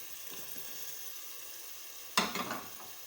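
Chicken pieces go into a hot pan for malai boti, setting off a sudden loud sizzle and spatter after a quiet hiss, then settling into steady frying.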